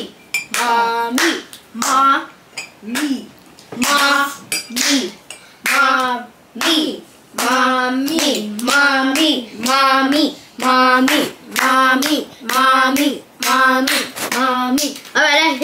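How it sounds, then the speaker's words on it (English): A small child claps his hands in bursts of sharp, close smacks, repeated many times through the clip at a home, while adults keep talking over the claps. "Why are you clapping your hands now?"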